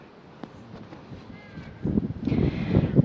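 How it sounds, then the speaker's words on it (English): Outdoor wind buffets the microphone, starting faint and then swelling into loud, irregular low rumbling gusts in the second half, with no voices. "I'm sorry if the wind is interfering with the sound"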